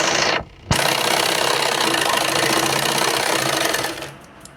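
An electric sewing machine stitches a blouse in a loud, fast, steady whir that stops briefly near the start, then runs on and winds down, close up with no talk.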